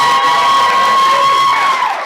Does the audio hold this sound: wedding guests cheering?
yes